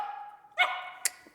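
A puppy gives one short, sharp bark on command, close by, after a soft whining tone, followed by a small click.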